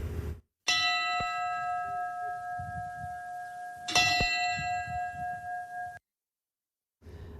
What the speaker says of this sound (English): A bell tolled 13 times